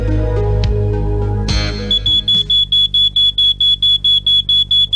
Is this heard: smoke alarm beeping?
yes